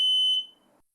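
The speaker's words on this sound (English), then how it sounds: "Test the smoke alarm by pressing the test button to confirm sounder operation" A SmokeSight SS10MANN wired smoke alarm sounding on test, a single loud piercing high beep that cuts off after a fraction of a second, leaving a faint quiet tail.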